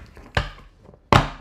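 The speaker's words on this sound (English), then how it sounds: "Last shuffle." Tarot cards are shuffled in two sharp, close snaps about three-quarters of a second apart, each a crisp papery slap against quiet.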